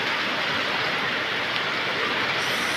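Steady rain falls outside a house, a dense continuous hiss of drops at even loudness throughout with no voices.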